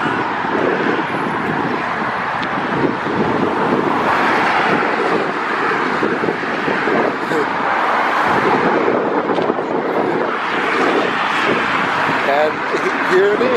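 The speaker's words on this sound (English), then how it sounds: "Memorial Day traffic right here." Steady road traffic on a Memorial Day approach to a bridge over the thruway in Albany, NY, a continuous broad wash of passing vehicles with some wind buffeting, close and fairly loud throughout.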